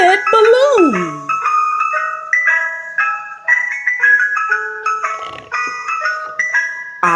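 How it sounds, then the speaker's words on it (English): A little ice cream truck plays its jingly tune, a bright, steady chiming melody that runs through the whole stretch, close and clear with no talking over it. "I'm a little ice cream truck. Lou plays a jingly tune."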